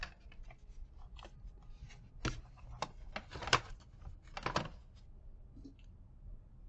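A computer keyboard is plugged in and handled, giving a run of sharp, close clicks and knocks in irregular bursts, with no voices.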